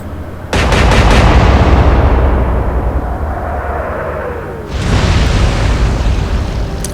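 Heavy naval guns boom in a WWI battleship game set at Jutland, with HMS Hood among the ships: a sudden loud salvo blast that rolls on for seconds, then a second broad, thunderous report, with no talking.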